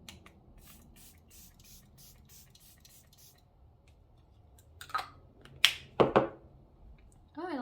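Charlotte Tilbury Airbrush Flawless Setting Spray mists out in a few short, close bursts of hissing spray. Each burst stands out against a quiet room after a stretch of soft rustling.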